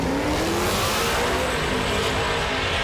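A Mustang and a Miata drag race at TX2K22, with loud engine roar and wind noise rushing past nearby in one continuous, revving burst.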